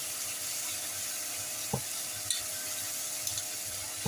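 Vegetables for prawn fried rice, including capsicum, cabbage, zucchini and carrot, sizzle steadily in a hot pan. A few sharp clinks come as they are tossed, and no one speaks.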